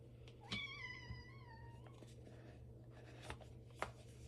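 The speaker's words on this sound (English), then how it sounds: "You can hear my cat down here." A cat lets out one drawn-out meow close by, followed by faint scattered tapping and rustling over a low hum.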